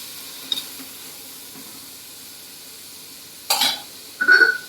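Washed field beans (val) are stirred in a pan, a soft background hiss broken by a light tap early and two louder scraping bursts near the end, close by and without speech.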